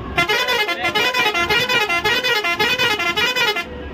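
A bus horn honks repeatedly in a steady pulsing blare, loud and close, sounding without pause for several seconds.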